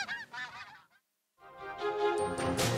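Geese honk in a wetland winter habitat, a loud cluster of calls, then a short silence, then a fuller overlapping chorus of honking from a flock.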